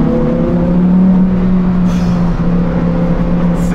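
Lamborghini Huracan STO engine drone, a steady low hum with a strong tonal band, loud and continuous throughout with little change in pitch, heard from inside the cabin with reduced sound insulation.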